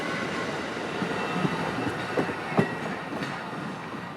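A CSX train rolls in on the Kingsland Subdivision near Jacksonville, a steady rail rumble with a few sharp wheel clicks and clanks rising over the continuous noise.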